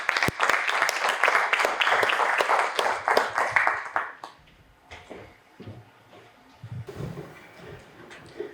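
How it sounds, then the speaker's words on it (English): Applause greets a panelist called forward at a panel session, loud crisp clapping for about four seconds that fades into scattered claps, shuffling and low room noise. "Round of applause."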